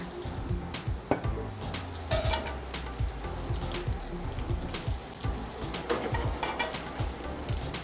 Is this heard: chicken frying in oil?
yes